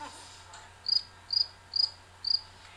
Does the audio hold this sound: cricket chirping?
yes